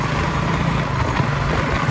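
A motorcycle engine held at high power, a loud, steady rumbling drone with even engine roar throughout and no talking.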